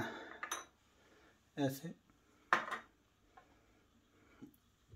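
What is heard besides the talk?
mixing three ingredients in a bowl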